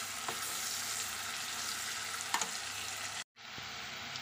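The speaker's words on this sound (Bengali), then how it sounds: "ঘিটা দিয়েছি, ভালো করে মিশিয়ে দেবো।" Vegetables frying in ghee for egg fried rice, stirred in a pan: a dense, even close sizzle with occasional light utensil taps, briefly cut off near the end before resuming.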